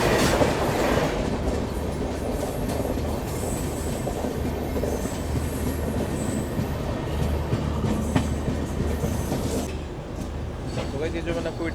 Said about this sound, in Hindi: ये जो मैंने आपको ट्रेन क्रॉसिंग दिखाई है थी हमारी 13225 जयनगर दानापुर इंटरसिटी एक्सप्रेस